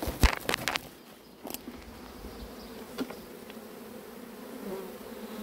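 A swarm of honey bees buzzes steadily during a swarm capture near a queen excluder, a continuous mid-pitched drone with a few sharp knocks and handling noises early on.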